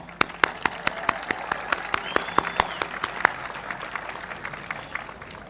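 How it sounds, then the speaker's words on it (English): Graduation audience at the American University of Iraq Sulaimani commencement claps for the graduates, a steady wash of applause punctuated by loud, regular sharp claps from someone close by. "join me in a hearty and heartfelt round of applause for all of today's graduates of the American University of Iraq Suleimani"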